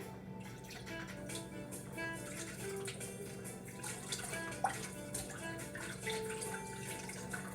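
Tap water running steadily over a strainer while rinsing cranberry beans in a kitchen sink, a faint continuous splashing stream with small drips and clinks, close by and without talk.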